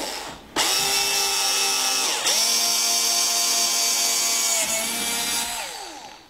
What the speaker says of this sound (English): we're going to drill our first hole in the top right corner of the back plate